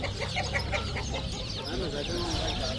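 Chickens, roosters and small chicks at a bustling Adana bird and poultry market, clucking and cheeping in quick overlapping bursts close by, over a steady crowd murmur.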